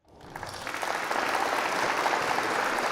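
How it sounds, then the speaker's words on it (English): Applause from an audience at a stock and futures education session rises quickly from silence into a dense, even patter of many hands that holds steady. "let's give you another round of applause for that"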